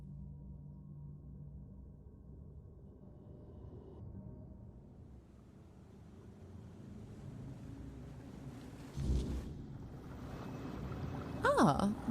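Wind blows across an exposed spot in the video game Tainted Grail: The Fall of Avalon, a low steady rush with swells and gusts that builds toward the end, where brief sharper sounds break through.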